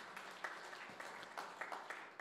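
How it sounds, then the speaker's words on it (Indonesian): Congregation applause at a church sermon, a faint, thin spread of clapping with a few louder claps standing out, steady for a couple of seconds in a quiet room. "Yang setuju beri tepuk tangan yang meriah untuk kamu."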